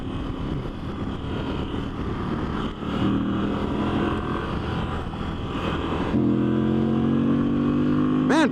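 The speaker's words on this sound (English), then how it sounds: "This bike actually likes to get up and scoot pretty nicely" A Moto Guzzi V85TT motorcycle ridden on an interstate, its engine droning loudly under wind noise and rising in pitch as it accelerates near the end.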